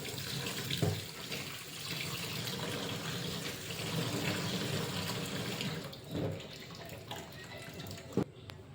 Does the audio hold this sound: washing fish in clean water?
yes